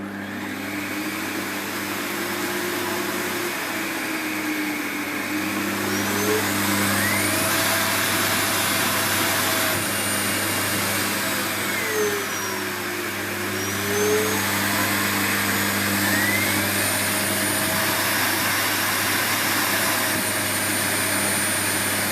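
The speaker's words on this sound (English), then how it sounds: "what we have there is like a relief valve opening, because I've turned it up too high" A SEBO K3 Vulcano bagged cylinder vacuum cleaner runs at high power with a steady loud whine and airflow roar, joined by a shifting whistling tone as its relief valve opens, with no talking.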